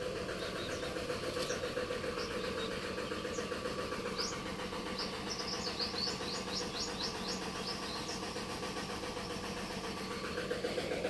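A fiberglass boat's engine runs steadily at a medium idle, a continuous rhythmic mechanical drone with faint bird chirps above it and no talk.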